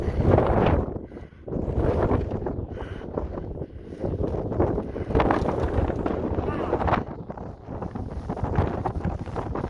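Strong wind on snowy Roan Mountain along the Appalachian Trail, a loud, continuous roaring buffet against the microphone that surges and dips in gusts throughout.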